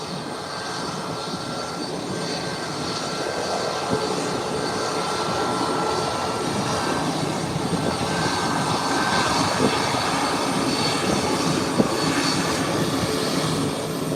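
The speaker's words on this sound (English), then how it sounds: "And here comes a takeoff" A plane's engines roar steadily as it powers down an airport runway for takeoff, a constant broad rumble heard from a distance with no voices over it.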